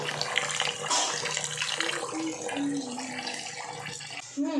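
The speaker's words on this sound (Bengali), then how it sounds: "চালটাকে ভালো করে ধুয়ে দিচ্ছি।" Rice being washed by hand in water, with continuous sloshing, swirling and splashing close by; a voice murmurs faintly underneath.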